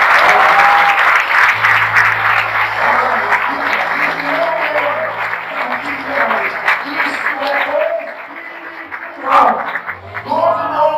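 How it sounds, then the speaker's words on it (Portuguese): An audience at a Brazilian church congress in Santa Catarina applauds, a loud, dense clapping wash mixed with cheering voices and shouts, fading somewhat midway, with music or voices rising over it toward the end. "Dá um aplauso ao seu filho"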